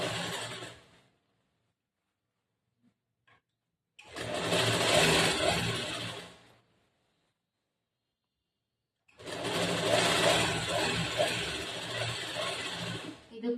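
A sewing machine stitches a cross-cut blouse in two sustained bursts of rapid, even mechanical whirring, separated by quiet pauses, close and fairly loud.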